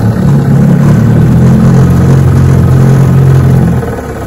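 A 1959 Johnson 5.5 HP outboard motor runs steadily in reverse on a bayou, a loud, close, even drone that holds for nearly four seconds before easing off.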